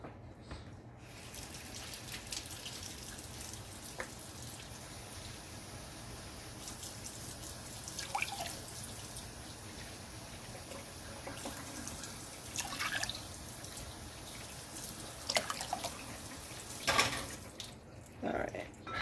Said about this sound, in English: and then I'm going to add, cutting it in half, 1 1/8 cup of water.